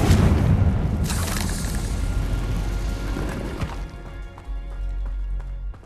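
A Confringo blasting spell goes off in the Hogwarts Legacy video game: a loud, booming burst with a heavy low rumble and a crashing sweep near the first second, fading into a quieter game ambience with scattered light clicks.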